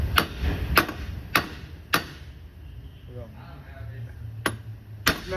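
Sharp metal hammer blows knock a front suspension part into position on a 1999 Cadillac DeVille during strut, wheel bearing and sway bar link work: six separate strikes, four in quick succession, then a pause and two more, close and loud.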